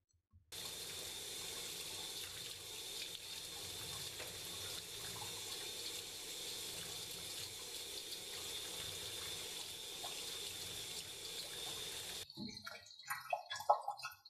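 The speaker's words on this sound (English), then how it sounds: "So I'm just going to run some cool water over this and do it in batches so I can get it totally clean." Cool tap water runs over fresh garden dill in a kitchen sink, a steady close splashing stream lasting about twelve seconds before shutting off, followed by brief handling clatter and drips.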